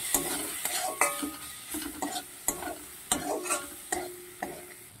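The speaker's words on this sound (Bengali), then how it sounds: "দিয়ে একসঙ্গে মশলাগুলোকে ভালোভাবে কষবো।" Turmeric and chili powder sauté in a pan with hot oil, a utensil scraping and stirring in steady repeated strokes over a continuous close sizzle.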